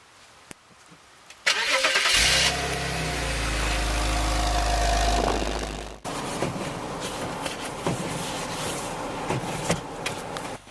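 BMW engine cold starting in snowy weather, a cranking burst, then a loud high-revving roar that holds for several seconds before cutting and settling into a steady, slightly rough idle.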